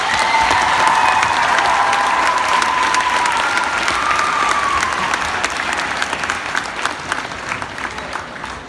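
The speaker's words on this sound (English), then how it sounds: "Please give them a round of applause." A crowd at a high school pep assembly for a state champion cross country team bursts into loud, sustained applause mixed with cheering and whoops, dense and continuous, then easing slightly toward the end.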